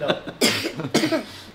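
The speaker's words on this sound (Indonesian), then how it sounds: "Batuk" Two sharp coughs from one person indoors, close to the listener, spaced about half a second apart, each a harsh burst followed by a brief tail, with quiet breathing and murmur between.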